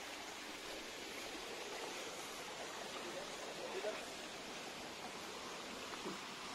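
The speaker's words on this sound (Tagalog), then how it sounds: "Meron din pong maliit na sapa dito." A small stream with very clear water gives a soft, steady broadband rush, faint and constant throughout, with a voice talking quietly nearby.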